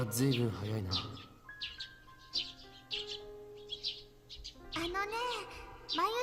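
Birds chirping in the visual novel game Steins;Gate, with bright repeated tweets and calls over a sustained musical tone, while a voice speaks at the start and end.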